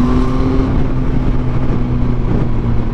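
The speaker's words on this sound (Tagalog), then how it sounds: "Yung exhaust pala nito, naka full system Akrapovic exhaust." A 2023 Yamaha XSR900 motorcycle fitted with a full-system Akrapovic exhaust, bread box resonator and catalytic converter, runs with a steady, close engine drone and a low rumble that holds throughout.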